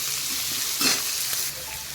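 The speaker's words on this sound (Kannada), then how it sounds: "ಈಗ ಇದನ್ನು ನಾನು ಎಣ್ಣೆಯಲ್ಲಿ ಫ್ರೈ ಮಾಡ್ಕೋತೇನೆ" Onion frying in oil in a pan for a spiced idli dish, a steady close sizzle and hiss with one brief stir, no speech.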